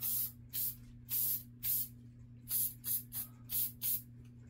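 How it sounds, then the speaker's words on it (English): Hornady One Shot aerosol lubricant sprayed in about ten short, sharp hissing bursts into an AR-15 receiver, close up, each burst roughly a third of a second with brief gaps, over a faint steady background hum. "I'll spray the inside of my receiver."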